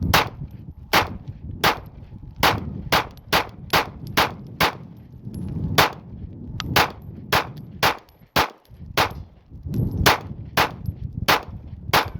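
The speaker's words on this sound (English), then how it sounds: "First 50 rounds out of the Glock 19." A Glock 19 pistol fires from a KCI 50-round drum magazine outdoors, a steady string of about twenty loud, sharp shots at an even quick pace with one short pause partway through.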